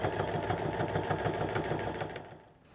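Sewing machine stitching a skirt lining, a fast even mechanical chatter close by that slows and fades out near the end.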